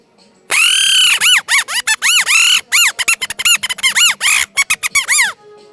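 A Kathputli puppeteer's mouth reed of bamboo and rubber gives a shrill squeaking puppet voice in rapid chirping bursts, first a long warbling call and then many short squeaks, loud and close, with no speech.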